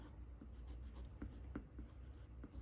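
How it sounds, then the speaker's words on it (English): Pelikan Twist fountain pen with a medium nib writing on paper, a quiet close scratching in short irregular strokes and taps, no voices. "I'm just going to write this again because that was a first start on the nib"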